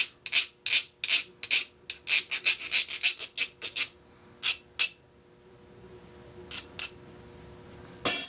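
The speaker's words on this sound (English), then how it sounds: "Just go ahead and give a couple swipes. Remove some of the burrs." A hand file rasps burrs off a homemade metal camera mount for a Picatinny rail in a run of short, crisp scraping strokes, then pauses before a few scattered final swipes.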